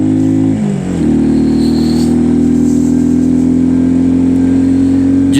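A motorcycle engine on a mountain road between Chilas and Babusar Top in the Himalayas hums loud and close, dipping briefly then settling into a steady, sustained drone as the bike rides on.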